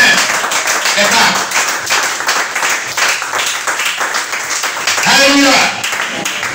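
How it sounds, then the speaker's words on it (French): A church congregation applauds and cheers the Lord with steady, loud clapping that swells near the end. A voice speaks over the applause throughout. "Acclamez le Seigneur pour vous-même."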